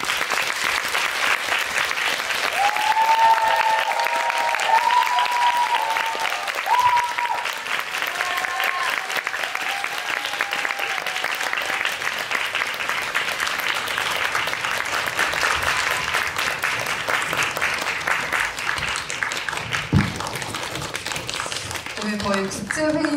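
An audience applauds steadily and warmly as guests walk in at a film screening talk event, a sustained, dense clapping that runs throughout, with a host's amplified voice speaking over it early on.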